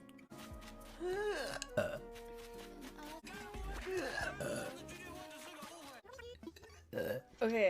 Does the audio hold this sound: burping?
yes